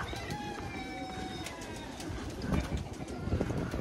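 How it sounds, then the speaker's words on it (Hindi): Pigeons coo softly amid a busy outdoor background with scattered bird calls and rustling, continuous throughout. "यहाँ सारे कबूतर हैं।"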